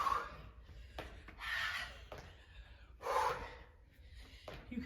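Heavy breathing during a bodyweight HIIT workout: slow, audible inhales and exhales repeat in rhythm, rising and falling close to the mic with no talking.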